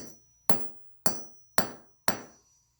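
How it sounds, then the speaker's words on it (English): A hammer strikes a piece of silicon four times at an even, unhurried pace, each blow a sharp, close knock with a brief ringing decay before the next. "What happens to it when I hit it with a hammer?"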